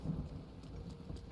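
Rain and thunder in the video game Zelda Breath of the Wild: a steady wash of rainfall with a low rolling rumble of thunder, quiet and continuous.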